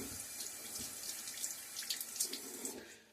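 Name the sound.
water running from sink tap before shaving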